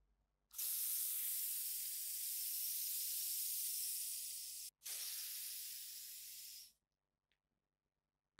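Deodorant aerosol spray released close by in a darkened room: a long, steady, loud hiss with a brief break near the end, then a shorter burst that fades out. No one speaks.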